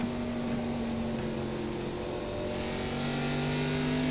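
Race car engine in the iRacing sim on Myrtle Beach Speedway, heard from a pit cam as a steady low droning hum with a constant pitch, holding at an even loudness throughout with no talk.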